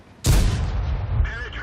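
A single loud, close tank cannon blast fired at the objective in World of Tanks, a sudden booming report with a rumbling tail that dies away over about a second and a half.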